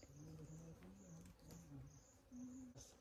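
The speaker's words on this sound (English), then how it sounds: "I've only seen beehives in movies, but I can actually hear beehives." Bees hum around a beehive outdoors, a near, continuous low buzzing drone with wavering pitch from several insects, steady throughout with no talking.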